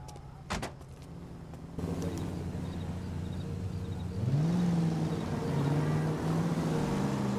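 A car drives in the LA Noire video game. A brief clunk opens it, then a steady engine drone rises in pitch as the car speeds up, fairly loud and close throughout, with no talking.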